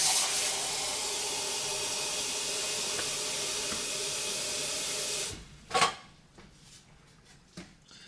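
Water poured into the reservoir of an AeroGarden 3SL indoor garden makes a steady hiss for about five seconds, then stops, followed by a few faint plastic knocks and handling sounds.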